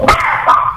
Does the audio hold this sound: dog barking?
yes